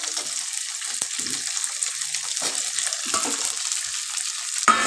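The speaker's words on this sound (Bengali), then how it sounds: "এবার সব একসঙ্গে ভালো করে ভেজে নিচ্ছি" Steady crackling sizzle of vegetables and tomatoes frying together for egg chilli in a hot pan, with occasional scrapes and stirs, close and continuous throughout.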